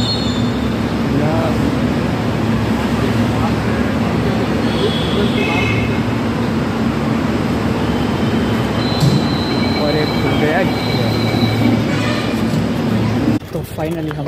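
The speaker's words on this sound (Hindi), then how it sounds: "तो फाइनली हमारी मेट्रो आ चुकी है" A metro train in India rumbles along steadily with wheel noise and faint squeals, while people talk over the constant background roar.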